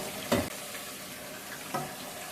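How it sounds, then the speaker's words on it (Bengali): Browned chicken chaap sizzles quietly in a pan as spice masala goes in, with two brief bursts of louder frying and stirring over a low, even background, with no voices. "এবার আমি মশলাটা এর মধ্যে ঢেলে দেবো।"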